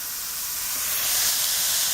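Sausage browns in a pan for sausage gravy, giving a steady, loud, broadband sizzle with a hissing, steam-like texture that holds unbroken throughout, close up and with no talk over it.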